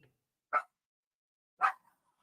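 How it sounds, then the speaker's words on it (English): Two sharp dog barks from Rosie, spaced about a second apart, fairly close and loud against an otherwise quiet room during a podcast recording, with no talk over them. "I apologize for the barking"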